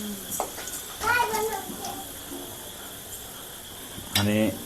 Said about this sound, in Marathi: फ्राय हो द्यायचं